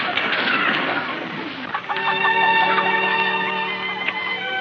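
Chickens clucking in a farmyard scene from an old sitcom, a loud close flurry of overlapping clucks and squawks followed by a sustained tonal cackle from one hen.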